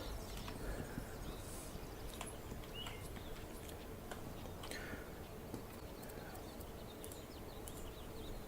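Horse hooves clip-clop steadily in the video game This Land Is My Land, moderate and continuous over low outdoor ambience with faint bird calls.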